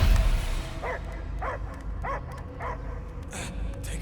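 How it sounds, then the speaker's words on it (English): Dog barking in the video game Marvel's Guardians of the Galaxy: five evenly spaced, fairly loud barks over a dense in-game ambience with a low rumble, no speech. "I hear only barking."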